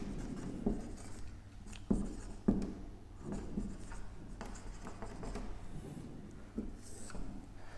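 A teacher writes out the animal kingdom classification during a biology lesson, with steady scratchy strokes and a few sharper taps as the writing implement meets the board, fairly close and with no talking.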